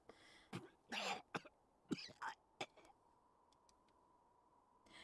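A man coughs several times in short, harsh, wet bursts, close and fairly loud, followed by a few faint clicks and a quiet background hum.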